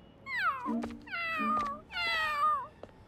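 A cat meows three times in a row, each call a clear, drawn-out cry with falling pitch, close by and with no talk.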